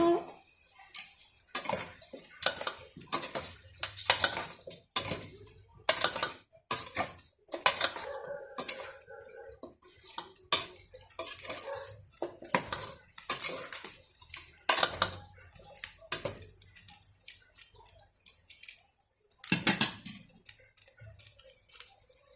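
Chicken tinola with malunggay being stirred in a pot, with repeated clanks and scrapes of a utensil against metal and sloshing liquid, loud and irregular throughout.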